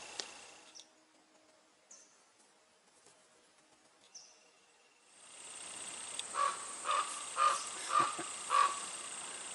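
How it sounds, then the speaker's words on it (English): A raven calls five times in a steady, evenly spaced series, fairly loud and close, over a constant outdoor hiss that follows a stretch of faint, scattered sounds. "Hello, Mr. Raven."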